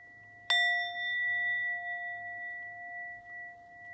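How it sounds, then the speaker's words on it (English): A singing bowl is struck once, giving a bright, clear onset followed by a long, steady resonating ring with gently pulsing overtones that sustains to the end. "I like to let the bell really, or the bowl, the sound really resonate"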